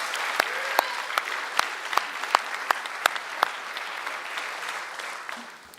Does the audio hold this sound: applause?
yes